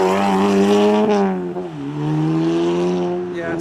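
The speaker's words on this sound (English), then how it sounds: "Loud Audi S1." A loud Audi S1 leaving a car meet revs hard with a deep, rasping engine tone that climbs, dips briefly at a gear change, then pulls again, close and dominant throughout.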